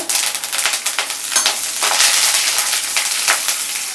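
Curry leaves hit hot oil with crispy fried peanuts in a pan for vegetable corn aval upma, a loud crackling sizzle with sharp pops, close and steady, with no voice.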